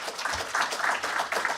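Audience at a global democracy forum applauding, a brief, even patter of many hands clapping in a hall.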